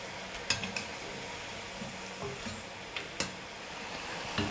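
Bonda made from idli or dosa batter frying in hot oil over medium heat, a continuous bubbling sizzle with scattered sharp clicks and light taps, no talking.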